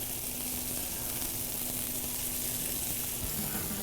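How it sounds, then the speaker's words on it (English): Fiddleheads sautéing in a pan, a steady, close sizzle with faint stirring beneath, even and unbroken throughout. "So we'll let these fiddleheads finish sauteing"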